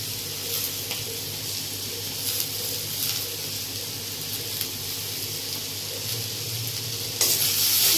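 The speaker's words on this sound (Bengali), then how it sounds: "দিয়ে আবার এখানে নাড়াচাড়া করে নেবো।" Ash gourd frying in a pan with chopped coriander as it is stirred: a continuous close sizzle with light scraping strokes, and a louder burst near the end, with no talking.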